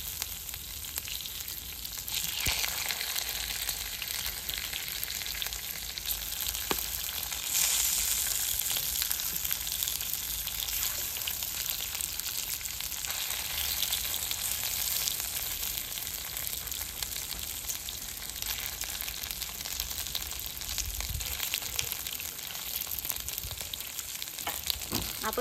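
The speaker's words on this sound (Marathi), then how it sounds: "आता यात एक एक इडली आपण फ्राय करून घेणार आहोत." Sorghum-flour masala idli pieces fry in a pan, giving a steady, loud sizzle that runs unbroken throughout, with no talking.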